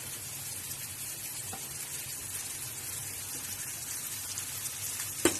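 Pieces of faksho fish frying in hot oil over thoroughly cooked-down masala give a steady, even sizzle and hiss throughout, with one sharp crackle near the end.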